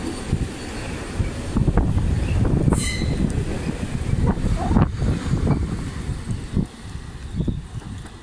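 A passenger train rolls into Katowice station with a broad rumbling roar, wind buffeting the microphone and a few sharp wheel clacks standing out as it arrives.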